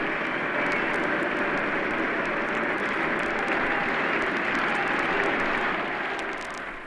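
Roaring rugby stadium crowd cheering as Danie de Villiers is carried off the field on players' shoulders, a dense, steady wash of noise holding loud throughout and easing slightly at the end.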